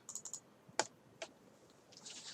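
A few scattered key clicks on a computer keyboard, with a short burst of quick taps, then two sharper isolated presses and a soft rustle at the end, close and fairly quiet with no voices.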